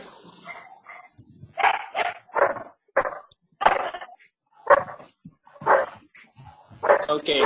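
Dogs bark in a burst of short, loud yips and woofs at an irregular pace, close by, with speech-like sounds mixed in.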